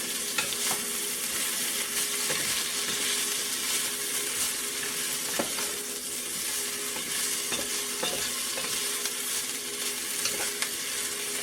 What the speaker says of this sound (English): Onions and peppers are caramelizing.